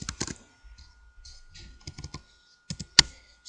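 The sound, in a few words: typing on a computer keyboard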